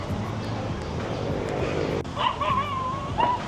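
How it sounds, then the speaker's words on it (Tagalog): Dogs bark and yip along Timog Avenue, a tree-lined city street, with a whining dog's high whimper rising late over a steady background of street noise and traffic. "Ang daming aso guys."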